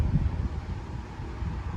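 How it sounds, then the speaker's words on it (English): Low rumbling wind buffets the microphone on the Hamilton Escarpment Rail Trail, a steady blustery roar with gusts, loud and close, no voices. "Oh, it's getting windy."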